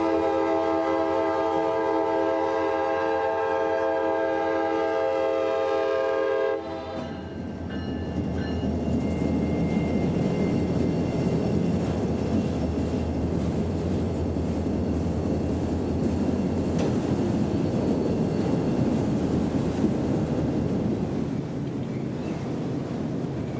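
A freight train led by a single Jeep 40-3 locomotive hauling about 25 empty autoracks into Yeoman yard in Tampa, Florida: a long chord horn blast gives way to a loud, sustained rumble and rattle of rolling cars.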